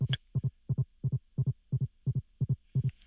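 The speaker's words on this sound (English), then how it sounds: "Its heartbeat was so loud" A loud staged heartbeat thumps in a steady lub-dub rhythm, about a dozen paired beats evenly spaced, heavy and close, with nothing else around it.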